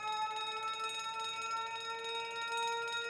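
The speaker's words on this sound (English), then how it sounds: "Fire alarm?" Fire alarm in the video game The Great Ace Attorney Chronicles: a continuous, fairly quiet electric bell ringing with a steady metallic tone throughout, no voices.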